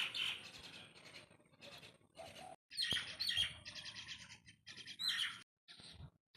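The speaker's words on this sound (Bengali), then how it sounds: "শালিক পাখিগুলো দেখুন কেমন ঝগড়া লেগেছে।" Myna birds squabble on a rooftop before rain, making harsh squawks and rapid chattering calls in irregular bursts separated by brief gaps, fairly close and clear, with no talk.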